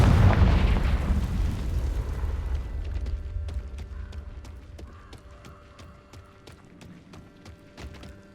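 A Confringo fire-spell blast in Hogwarts Legacy: a loud booming burst that rolls off over a couple of seconds, followed by faint ticking, clicking mechanism sounds.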